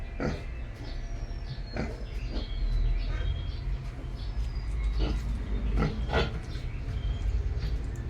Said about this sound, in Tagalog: Ito yung mga baboy.